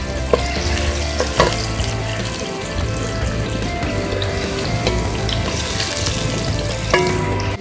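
Onions browning in oil in a frying pan with cloves, a steady close sizzle and crackle running throughout, broken by a few sharp scrapes and knocks of a stirring spoon against the pan.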